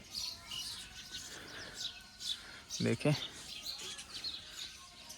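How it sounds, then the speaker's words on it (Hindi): Birds chirping and calling at a quiet river ghat on the Narmada at sunrise, faint scattered tweets over soft ambience, with a brief spoken word and a short thump midway. "यहाँ पे कोई इंसान नहीं है, बस प्रकृति और उसमें विचरण करने वाले पक्षी।"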